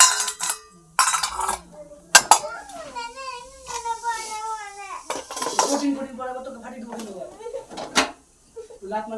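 Dishes, pots and utensils being washed by hand, with scattered clinks and clatters of metal and crockery breaking in irregularly while a voice talks over much of it.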